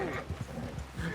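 A horse in Red Dead Redemption 2 clops along at a walk, with soft rhythmic hoofbeats and snorting, faint and low under ambient game sound.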